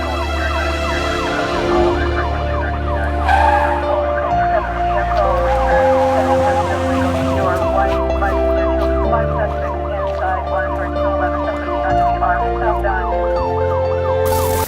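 A police siren wails in a continuous looping cycle over a driving music track, loud and prominent throughout with a steady pulsing beat underneath.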